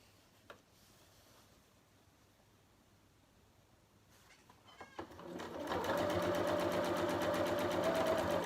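A domestic sewing machine runs a steady, close whirring stitch from about six seconds on, tacking fabric binding along the edge of triangle bunting, after a few quiet handling clicks and rustles.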